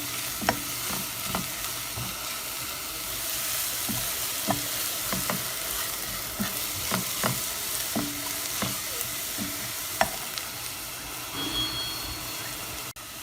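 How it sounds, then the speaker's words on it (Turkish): Carrots sauté in a pot for chicken vermicelli soup, a continuous hot sizzle with frequent sharp scrapes and taps of a spoon stirring at an uneven rhythm, close and fairly loud, no voices. "Havuçtan kavrulmuş. Biraz daha kavrulsun."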